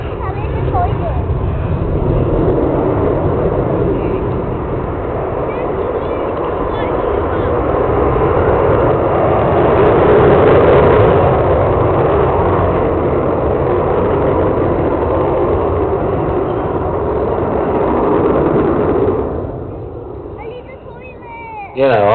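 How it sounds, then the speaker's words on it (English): The Avro Vulcan XH558 bomber's engines roar at the East Fortune airshow, a loud, sustained low rumble that swells and then fades near the end, with a voice talking over it. "Wonderful roar from those engines"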